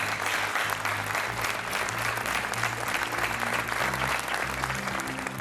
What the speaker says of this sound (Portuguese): Um aplauso também para elas.